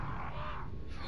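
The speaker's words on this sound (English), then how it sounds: "There's so many crows." Crows cawing in the Resident Evil 4 video game, one harsh, drawn-out caw close and loud over a dense background wash.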